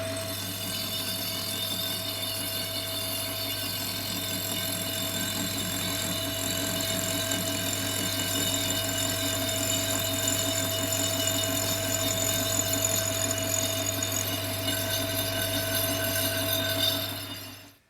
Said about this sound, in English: So now I've got to move the bed of the mill along and set the cut to part off this nascent Clupet piston ring